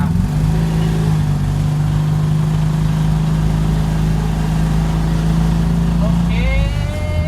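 A vintage Honda N360 kei car is driven with a small engine droning steadily and loudly from inside the cabin, holding a constant pitch before shifting near the end. A voice speaks faintly beneath the engine noise.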